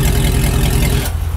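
A supercharged LS V8 in a sleeper work van with a custom exhaust roars loudly and close, a strong engine note that cuts off sharply near the end.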